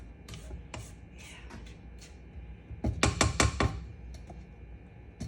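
A mixing bowl of red velvet cake batter is scraped down around its sides, giving soft rubbing scrapes with a quick cluster of louder taps and knocks in the middle, close and without talking.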